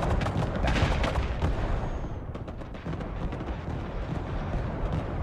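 Machine gun fire in Broken Arrow, a 5v5 multiplayer battle: rapid bursts of shots rattle over a low rumble of artillery and explosions, loud at first and then continuing steadily with no talking.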